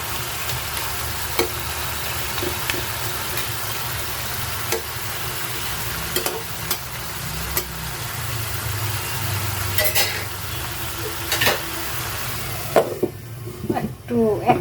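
Pabda fish cooking in mustard sauce in a pan, a steady low sizzle with scattered clicks and scrapes of a spoon stirring, close and moderate, ending in a few louder knocks.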